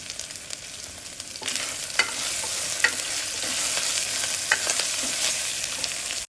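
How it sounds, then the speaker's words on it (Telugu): Tempering spices with garam masala fry in a pan for vegetable semiya-rava upma, a bright sizzle that swells after a quiet start, punctuated by several sharp stirring clicks and scrapes, with no voices. "పోపు అంతా ఇలా బాగా వేగిన తర్వాత"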